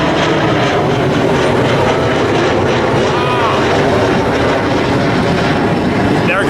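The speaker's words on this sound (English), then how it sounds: "There it goes, doing a go around." A Southwest airliner doing a go-around at San Diego's Lindbergh Field gives a loud, sustained jet-engine roar that stays strong and steady throughout.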